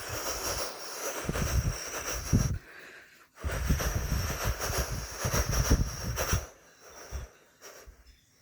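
A voice imitates a train with rhythmic breathy huffs and hisses, chugging in bursts with a brief pause midway, close and fairly loud.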